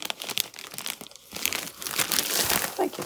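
A plastic bag crinkles and crumples through handling, loud and close, with scattered rustles and brief tearing-like crunches; a voice speaks briefly over it.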